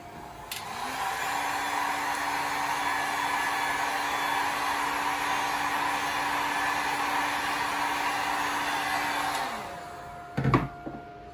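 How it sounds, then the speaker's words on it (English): A heat gun blows steadily on a mirror tile to loosen stickers, a continuous close whooshing roar with a faint tonal whine that runs about nine seconds, then cuts off, followed by a few brief handling knocks. "grab your heat gun,"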